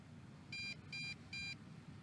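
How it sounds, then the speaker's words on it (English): Low-voltage warning on a Bugs B2C black edition drone, three evenly spaced high electronic beeps sounding over a steady low whirring hum outdoors. "that 3 beep, constant beep, is telling me that I am in that initial stage of LVC"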